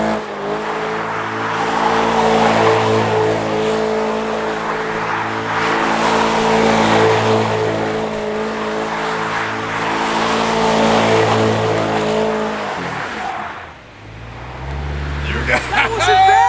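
A C8 Corvette doing donuts, its engine revving hard in repeated loud surges with tire squeal mixed in, close and aggressive, then easing off before voices and cabin sounds near the end.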